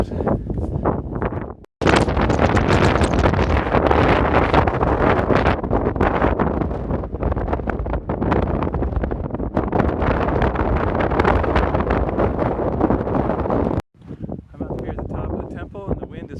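Powerful Meltemi wind roars and buffets the microphone almost continuously, loud and close, with a brief dropout and gusts easing near the end.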